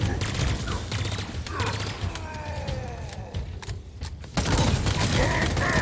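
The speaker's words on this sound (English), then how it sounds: "Okay, that was a bigger explosion than I thought." Gunfire and explosions in the video game Halo Infinite, a dense fusillade of rapid shots with booming blasts, loud throughout and swelling near the end, with a faint voice underneath.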